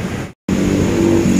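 A Po Haryanto bus engine drones loud and close, cutting out for a brief moment before resuming a steady low rumble as the coach pulls away.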